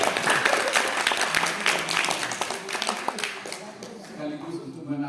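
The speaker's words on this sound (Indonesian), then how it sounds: "Itu tepuk tangan dulu untuk mereka" An audience claps at a gathering in Palu, and the dense applause starts strong, then thins and fades over a few seconds while a voice speaks over it.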